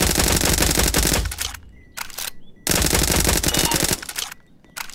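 Rapid automatic gunfire in Roblox Jailbreak, two long loud bursts of fast repeated shots broken by a pause with a couple of shorter bursts, close and dense.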